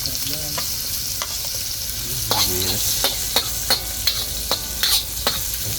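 Onions sautéing in a pan for a home-cooked mudfish (dalag) meal, a steady soft sizzle with scraping stir strokes and a few sharp clicks of a utensil against the pan, no talking.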